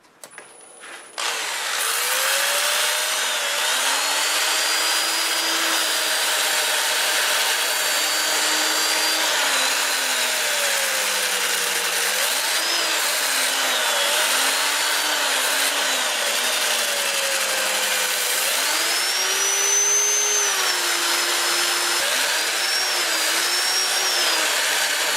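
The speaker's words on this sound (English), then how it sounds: "I'll be sanding in reverse at about 350 RPM" A wood lathe runs steadily in reverse at about 350 RPM while wood is sanded, a continuous loud whirring hum with sliding pitch shifts as the sandpaper presses and eases, alone without talk.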